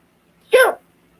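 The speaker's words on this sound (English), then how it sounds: "How's the hiccup?" A single short, sharp hiccup bursts out close by in an otherwise quiet room, lasting barely a quarter second.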